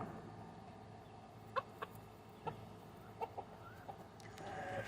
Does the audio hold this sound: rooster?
yes